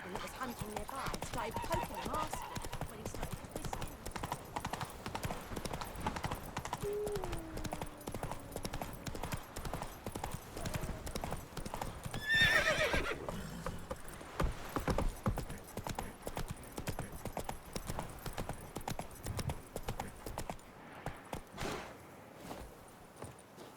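Hooves of a horse ridden off-road in The Witcher 3 thud in a steady, close clip-clop rhythm for the whole stretch, with a brief whinny-like call midway and a voice heard faintly in places.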